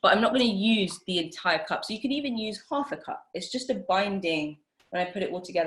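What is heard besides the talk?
No everyday noises stand out.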